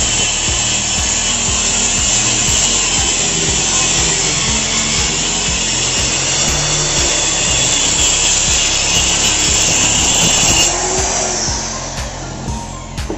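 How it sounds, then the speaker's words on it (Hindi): Steady, loud rasping of a saw cutting a wooden plank to width for a double bed frame, continuous rhythmic strokes close by with no talking, tapering off near the end. "अब इसकी चौड़ाई कटिंग करेंगे।"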